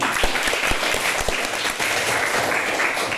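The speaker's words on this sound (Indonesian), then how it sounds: "Berikan tepuk tangan lagi." Audience applause at a church gathering: a continuous, fairly loud roar of many clapping hands that stays even throughout.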